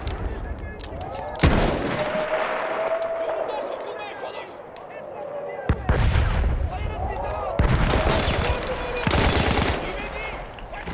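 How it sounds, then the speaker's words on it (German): MP18 submachine gun in the video game Battlefield 1 firing in sharp, loud bursts, three clustered volleys spread across the stretch, with someone talking between them. "die MP18 feuert ziemlich häufig, also immer drei Schüsse"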